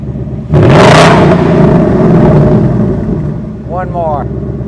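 A sports car at a loudness test, either a Dark Horse Mustang or a Porsche 718 Cayman, gives one loud, close engine rev that roars and slowly fades, then a voice speaks briefly.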